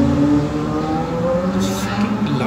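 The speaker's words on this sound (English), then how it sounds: "Fucking loud bikes." Loud motorbikes roar past nearby, their engine drone rising and fading over a couple of seconds, with a person talking over the noise.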